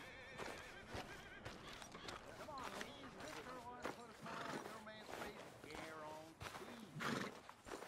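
A new horse in Red Dead Redemption 2 neighs and whinnies repeatedly while hooves clop, faint and mixed with nearby voices talking throughout.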